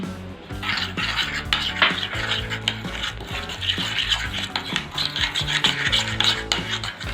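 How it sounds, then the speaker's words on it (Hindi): Fresh cream and sugar are mixed in a bowl with a utensil, making rhythmic scraping and rubbing strokes against the sides, close and continuous, without any talk. "इसमें मैं अब ये जो चीनी है ये डालूँगी थोड़ी, और इसे अच्छे से मिक्स कर दूँगी"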